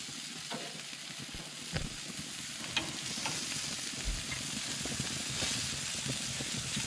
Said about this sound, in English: Now we're just going to give these a flip.